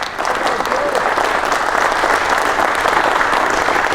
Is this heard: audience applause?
yes